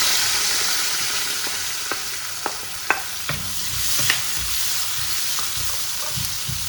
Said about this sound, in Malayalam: ഇതിനെ നമ്മൾ അതിലിട്ടിട്ട് ഉള്ളി ചോക്കനെ ആവണ വരെ ഒന്ന് വഴറ്റണം.